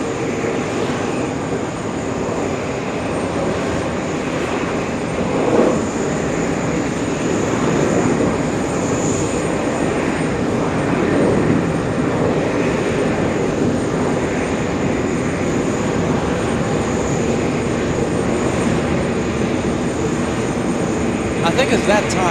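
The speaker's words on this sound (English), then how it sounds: "A380 will be a departure on 13 right, sadly, but we will get the pushback right in front of us." Jet engines of an Airbus A380 being pushed back at JFK airport, a loud, steady roar with a high whine running through it, continuous for the whole stretch with faint voices underneath.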